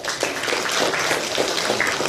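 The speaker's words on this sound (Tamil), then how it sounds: "அவங்கள ஒரு கைத்தட்டல் கொடுக்கலாம்" An audience applauds students at a World Environment Day school event, a steady wash of many hands clapping together at close range.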